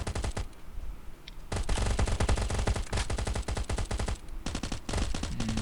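Rapid automatic gunfire rattles in the survival video game Last Island of Survival. Dense bursts of loud shots come with short pauses between them, and there is no talk.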